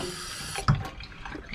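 Water from a kitchen faucet runs into the sink during a bath for a Miniature Schnauzer, a soft, close, steady flow with one brief splashy burst partway through, and no voices.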